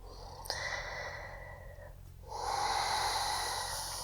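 Deep breathing held in a yoga high plank: a sharp nasal inhale, a long drawn exhale, then another strong breath, close and clear with no talking.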